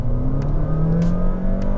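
A Honda HR-V hybrid accelerating hard with the throttle floored, a steady loud engine drone with a rising whine held throughout under no speech.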